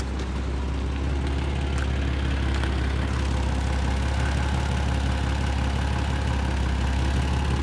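A Porsche Boxster Anniversary Edition engine idles steadily and close by, a continuous low droning hum that holds even throughout with no one speaking.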